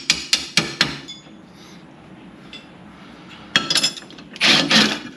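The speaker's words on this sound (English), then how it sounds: "Hammer this out." A hammer strikes metal four times in quick succession, knocking out a car's rear lower control arm bushing, followed by a short pause and then another burst of sharp, close blows.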